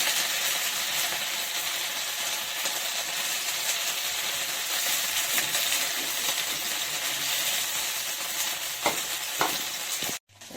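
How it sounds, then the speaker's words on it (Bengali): Homemade papaya paneer pieces fry in a pan with a steady, close sizzle and a few sharp clinks of a utensil near the end. The sound then cuts out abruptly. "আমার পনির ভাজা হয়ে গেল"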